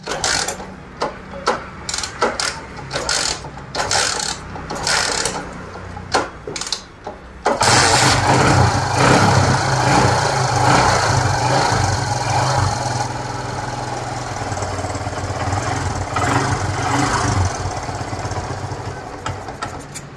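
A TVS Sport motorcycle engine cranks and catches, then settles into a steady, loud rumbling idle that runs on without pause.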